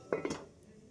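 A metal lid set onto a cooking pot of banana flower curry with potato, two quick close clanks in fast succession followed by a fading ring.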